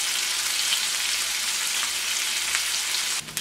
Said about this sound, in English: Bacon's starting to crisp up.